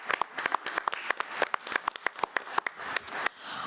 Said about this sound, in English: let's give all of our students another round of applause for doing a great job